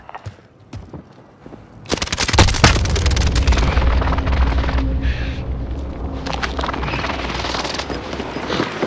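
Explosions from a precision airstrike in the video game Call of Duty Warzone Rebirth, heavy booms that start after a few quiet seconds, then a loud continuous rumble with repeated blasts and gunfire-like cracks.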